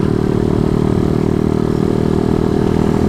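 A Rusi Flash motorcycle riding around in Malaysia, its engine holding a loud, steady droning hum close by with no break and no talking.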